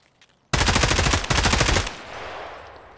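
Automatic rifle fire in Escape From Tarkov, one loud sustained full-auto burst of rapid shots lasting over a second, close and harsh, with a brief hitch midway and a fading echo after.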